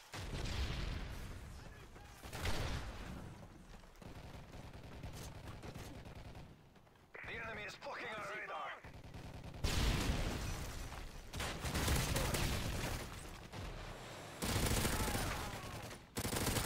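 Gunfire in a first-person shooter match, including an ACR rifle, with bursts of automatic fire and shots through a building. The shooting is loud and intermittent, with brief pauses between volleys and a short quieter gap midway.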